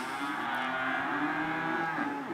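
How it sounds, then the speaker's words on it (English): Cattle moo continuously in a low, drawn-out chorus, several animals overlapping close by with no talking. "They're unsettled, to say the least, right now, so they're just mooing."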